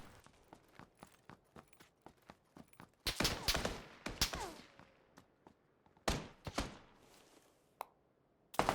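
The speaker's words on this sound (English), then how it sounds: "there's 2 teams shooting at me" Bursts of gunfire in the PUBG video game on Xbox One X as two enemy teams open up, with sharp loud volleys starting partway through, clustered shots and scattered single cracks between, plus lighter footstep-like ticks early on.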